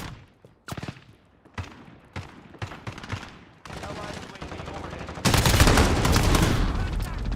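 Rapid rifle gunfire from a shooter video game, a string of sharp shots that builds into dense, continuous loud bursts toward the end.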